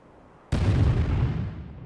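A missile exploding in the Tekken 7 fighting game, one sudden, heavy boom that hits sharply and then rumbles on with a broad, sustained roar rather than fading quickly.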